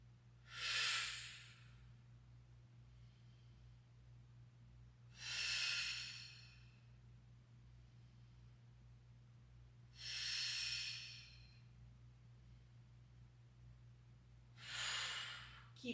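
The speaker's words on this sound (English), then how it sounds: "Keep breathing." Slow, deep breaths during a beginner core exercise, four strong breathy exhales about five seconds apart, close and clear with quiet pauses between them.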